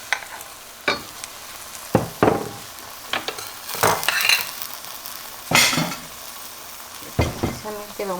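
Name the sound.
tomato salsa with roasted garlic and onion sizzling in pan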